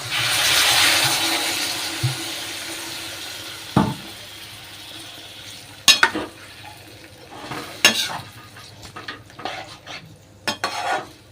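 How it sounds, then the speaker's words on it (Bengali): Water poured into a hot cooking pan on a home stove. A soft hiss and sizzle at the start fades to quiet bubbling, broken by a few sharp clinks and scrapes of a utensil against the pan. "এই জল দিয়ে দিই এখানে এবারে।"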